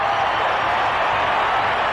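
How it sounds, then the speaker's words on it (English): A dense, steady roar from a stadium crowd cheering right after a John Elway touchdown pass to Miller at a 1994 Denver Broncos game, loud and unbroken throughout. "And the crowd loves it"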